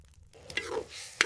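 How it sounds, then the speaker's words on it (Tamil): Green chillies and curry leaves sizzling in hot sesame oil, a soft crackling fry that swells midway and ends in a sharp spitting pop near the close, with no talk. "இப்ப பச்சை மிளகா, கறிவேப்பிலை இந்த சத்தம் கேட்டாலே பசிக்க ஆரம்பிச்சிரும்."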